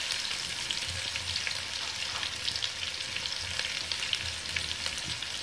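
Two lengthwise-sliced onions sauté in a hot pan for biryani, giving a steady, dense sizzle throughout with faint crackles and no voices.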